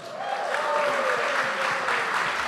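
An audience claps steadily and evenly for a couple of seconds, a dense, continuous wash of applause with no talking over it.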